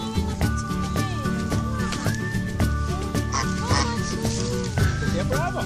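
Ducks and geese gathering at a pond by a river give repeated loud, close quacks and honks in overlapping bursts, while people talk nearby.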